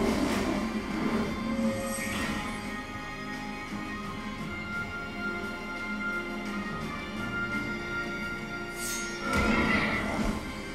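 A horse whinnies in the video game Child of Light, a loud neigh near the start and another near the end over game music and effects.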